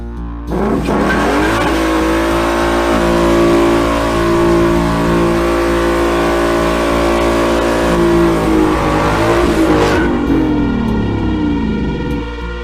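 A Ford car engine revs hard and holds near its rev limiter, a loud sustained roar with rising and falling pitch for about ten seconds before easing back to a rough idle.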